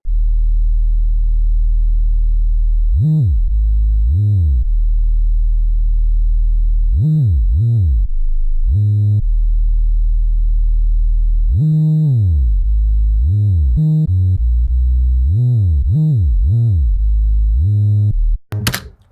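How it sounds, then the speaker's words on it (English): Deep, loud 808 bass notes thump in a rhythmic pattern, several gliding up and down in pitch, ending with a sharp burst. "you can use that 808 bass and go straight, or you can modify yourself, or you can upgrade yourself into adding slides"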